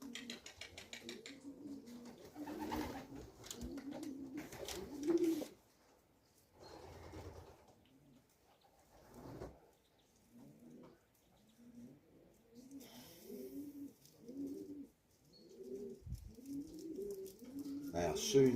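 Racing pigeons coo in a loft on race day, soft low rolling calls repeating in bursts, with someone talking over and between them.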